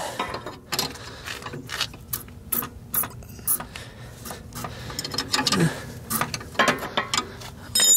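Ratchet wrench tightening a bolt on a car's coilover suspension, close up: bursts of metallic clicking and rubbing in uneven spurts, with handling noises between strokes and no talk.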